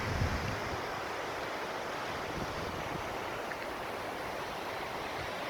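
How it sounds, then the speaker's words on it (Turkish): A mountain spring-fed stream between two peaks on the Kızılgeçit plateau near Silifke, Mersin, flows with a steady, dense rushing wash, close and constant, with no voices. "dağdan gelen kaynak suyu, doğal kaynak suyu. Şöyle dereyi gösteriyorum"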